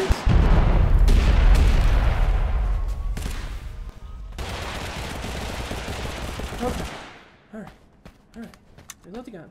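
Gunfire in Totally Accurate Battlegrounds, set in a Wild West area, rattles in dense bursts at first, then thins into scattered, fainter shots and clicks.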